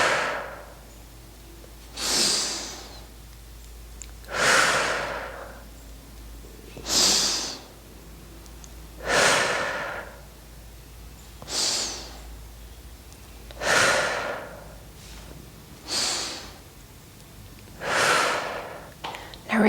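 Slow, deep breaths during a trauma-releasing exercise, about eight long audible inhales and exhales at a steady, unhurried rhythm, close and breathy against a quiet background.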